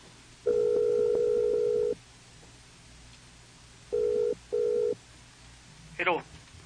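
A telephone places a call back: a long steady tone, a pause, then two short tone pulses, ending with a brief chirp. The sounds are clear and close.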